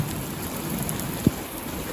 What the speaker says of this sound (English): it's still throwing it down with rain